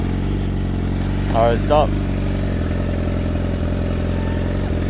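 A motorcycle engine idles steadily at close range during a riding lesson in a practice area, as a brief spoken instruction cuts across the low rumble.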